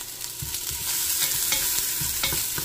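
Garlic sautés in a pan while cow innards are cooked, with a loud continuous sizzle and several quick stirring scrapes over a few seconds, close up, no voices.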